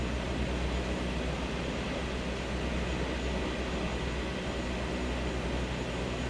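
Aircraft in a flight simulator game taking off, a steady loud broadband engine roar with deep rumble sustained throughout, no voices.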